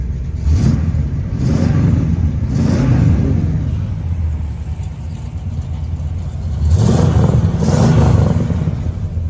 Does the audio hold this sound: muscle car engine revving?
yes